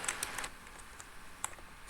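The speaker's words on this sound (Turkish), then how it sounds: "Şu an klavyede oynadığımdan dolayı" Computer keyboard keys clicking during gameplay of a farming simulator, a few quick taps near the start and then sparse isolated clicks, close and soft with no talking.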